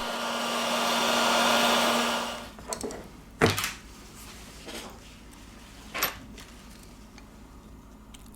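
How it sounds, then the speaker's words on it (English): A heat gun blows a steady, airy roar onto a Nokia 5.1 phone during a battery replacement, running for about two seconds before cutting off, followed by a few scattered clunks and taps at the bench. "With the help of the heat gun, we apply 19 Celsius degrees during 4 minutes."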